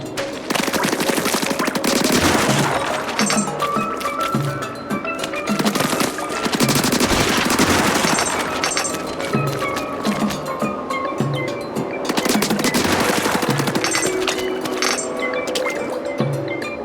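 Rapid bursts of gunfire from the video game Splatoon Raiders rattle almost continuously, with rhythmic clinking hits and busy game effects layered over a dense mix.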